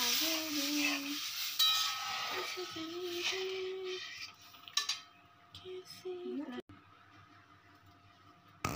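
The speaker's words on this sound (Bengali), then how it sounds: "এবার আমি যে ডাল লাউটা সিদ্ধ করে রেখেছি ওটা দিয়ে দিচ্ছি।" Boiled mung dal and bottle gourd go into a pan with metal clinks and soft scraping of a spoon against cookware, followed by quieter stirring and a few sharp knocks.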